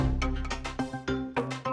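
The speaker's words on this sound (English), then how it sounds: "you can hear that stepping through lots of different samples" A Korg Wavestate mkII wave-sequencing synth tone steps rapidly through a chain of different short sampled sounds, each change marked by a new attack, forming a rhythmic, shifting pattern.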